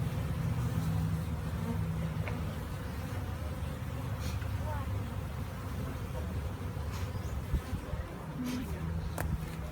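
Honeybees from a package colony buzz around the hive frames two weeks after installation, a steady low drone that fills the background without a break.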